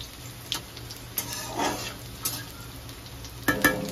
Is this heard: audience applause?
no